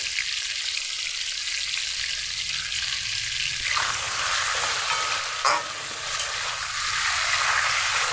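Potatoes fry in oil with turmeric and salt, producing a continuous close sizzle that holds steady throughout, with one brief clink partway through and no talk.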